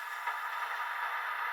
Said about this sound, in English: This is basically like an impact or transition sound.